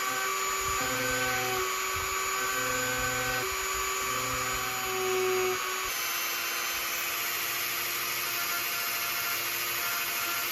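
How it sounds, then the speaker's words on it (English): Dremel rotary tool carving a small wooden crankbait lure, a continuous high-pitched whine and grinding buzz with pitch shifting as the bit bites into the wood, close and steady throughout. "Let's get the Dremel out and start carving."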